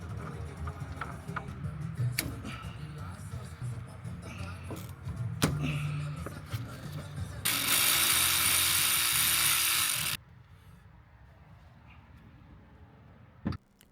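Bolts being tightened during installation of a BC Racing coilover strut on a 350Z, with scattered metallic clicks, clanks and tool knocks in a garage, then a loud, steady power-tool whir for a few seconds before things fall quiet.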